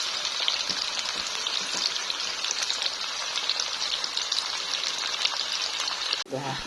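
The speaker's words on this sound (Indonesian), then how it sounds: "Goreng kering, enak ini buat cemilan anak-anak." Food frying dry and crisp in hot oil as a snack, a dense continuous sizzle and crackle that stays loud and steady before cutting off near the end.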